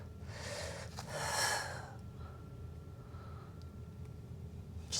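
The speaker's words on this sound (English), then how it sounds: "Deep breath in." A deep breath drawn in during a mat Pilates core exercise, one soft, close inhale with a faint sigh, followed by quiet, low background noise.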